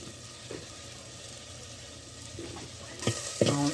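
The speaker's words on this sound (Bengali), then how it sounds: "এখন সবগুলো মিক্স করা হচ্ছে যেন খুব সুন্দরভাবে মিক্স হয়ে যায়" A spoon stirs spices into pumpkin and pangas fish in a sizzling pan. It makes a steady low frying hiss, and a few louder scraping stirs come near the end.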